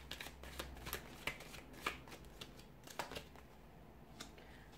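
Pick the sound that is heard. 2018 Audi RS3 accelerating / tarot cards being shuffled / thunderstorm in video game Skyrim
tarot cards being shuffled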